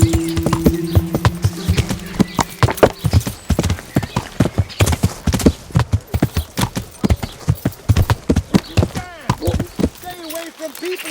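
Horse hooves clop in a quick galloping rhythm in the video game Kingdom Come: Deliverance, loud and close, with a whinny near the end and a low hum early on.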